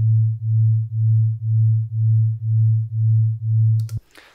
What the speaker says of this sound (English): So we get this period where volume goes loud, quiet, loud, quiet, loud, quiet.